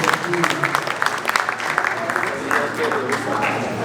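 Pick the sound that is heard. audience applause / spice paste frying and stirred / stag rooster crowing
audience applause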